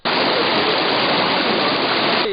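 Stream rushing at the head of a creek bed near Karaburun that feeds village water intakes, a loud, dense, unbroken wash of flowing water close by, with no voices.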